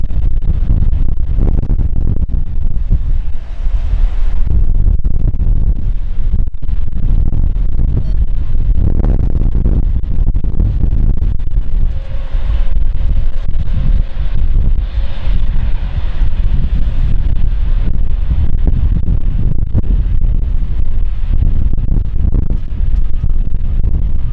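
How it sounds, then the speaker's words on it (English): Steady wind buffets the microphone outdoors in London, a loud continuous roar with low rumbling gusts and no speech. "Alright, wind."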